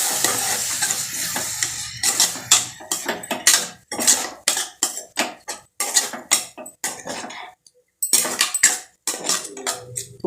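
Rice sautéed with masala in a metal pot, a spoon scraping and clanking in quick, loud, uneven strokes against the sides and bottom, with brief pauses and a faint sizzle beneath, no voices.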